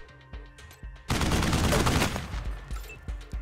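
Dense burst of video-game gunfire in Wasteland 3 erupts after a quieter stretch and rattles on loudly for about two seconds, then fades into lighter shots and effects.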